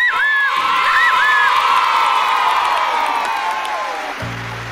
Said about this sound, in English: And every time a good character comes out,